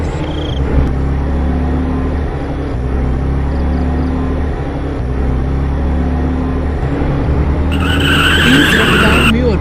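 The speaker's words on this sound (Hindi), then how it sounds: "तभी सामने से एक गाड़ी आती है।" A car speeds down an empty road on a dark, deserted night, its engine roaring steadily up close before a sharp tire squeal and skid cut in near the end, with a voice talking over it.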